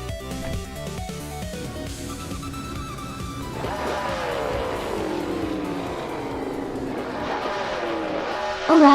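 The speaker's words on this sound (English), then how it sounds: "the race has just kicked off at high speed Ring, and Elias X98 is starting on pole driving a 2011 Dodge Ram" Video game race at the start on a high-speed ring, with a 2011 Dodge Ram pickup accelerating off pole among other vehicles: steady engine roar with rising and falling whines and tire noise, continuous and loud throughout.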